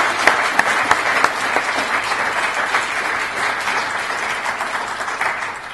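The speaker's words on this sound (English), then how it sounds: "I want to give a huge round of applause" A large audience at a workshop's opening remarks gives a long, dense round of applause, many hands clapping steadily and loudly throughout before tapering slightly at the end.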